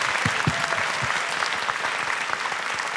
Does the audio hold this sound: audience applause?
yes